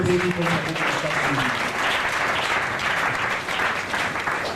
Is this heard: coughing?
no